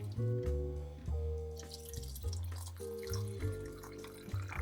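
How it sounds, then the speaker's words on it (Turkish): Drinking water pours and trickles into a glass jar over grapes for homemade vinegar, a quiet gurgling fill with shifting pitch and small drips, heard alone without talk. "Bu malzemelerin üzerine kavanozumuz doluncaya kadar içme suyu döküyoruz."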